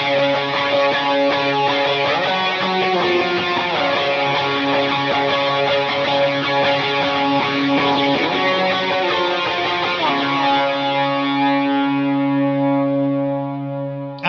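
Electric lead guitar through a Line 6 Helix preset with overdrive and wet effects, ringing out a loud, sustained melodic line thick with distortion, chorus and echo, ending on a long held chord.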